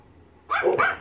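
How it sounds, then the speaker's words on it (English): A dog indoors gives a single short bark, close and fairly loud after a moment of near silence. "I'm not gonna put out this barking all over my videos"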